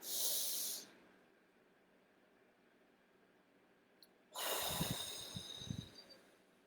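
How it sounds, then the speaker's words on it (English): Two deep breaths in a guided exercise: a short, loud airy rush opens, quiet follows, then a longer, noisy exhale with rough nasal bursts, close to the microphone. "One more time, let's take another deep breath."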